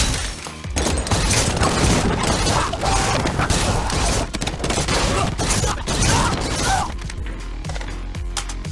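In a movie action scene, a mag-fed shotgun fires rapidly in a dense, loud, continuous burst. Crashing, shattering impacts are mixed in, and the barrage eases off near the end.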